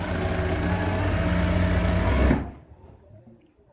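A sewing machine runs steadily and loudly while stitching a ladies suit, then stops abruptly partway through, leaving near silence behind.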